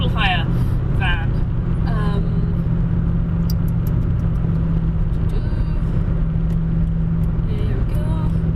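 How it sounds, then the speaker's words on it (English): A car overtakes a plant and tool hire van, its engine and tyre rumble a constant loud drone heard from inside the cabin, while someone talks over it. "Sorry, I'm just overtaking a plant and tool hire van."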